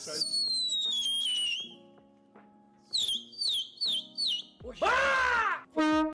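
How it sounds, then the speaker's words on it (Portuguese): Whistling fireworks sending out shrill, sliding whistle tones in several short bursts, followed by a loud crackling burst near the end, clear and fairly close. "Depois apresenta os fogos de apito, que sobem assoviando antes de explodir, tipo assim, ó."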